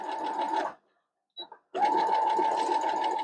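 A sewing machine stitching a Jacob's Ladder quilt block runs at medium speed with a steady whirring buzz, stops briefly with a couple of small clicks, then resumes stitching.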